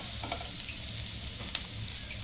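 Chopped coriander sautéing in a hot pan with onions after the gas is turned off, a soft, steady sizzle with a few faint crackles, quiet and close.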